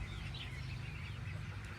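Young backyard chickens, newly acquired birds that may be hens or a rooster, clucking softly and continuously at close range, alone without talk.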